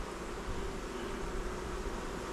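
Honeybees inside an opened, calm hive give a steady, low droning buzz, close and continuous with no pauses.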